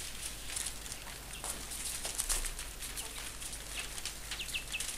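Male quail calling in complaint while being handled in a backyard quail-keeping setup, faint high chirps and squeaks scattered over a soft, steady background with rustling.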